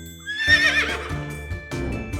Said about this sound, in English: Horse neighs.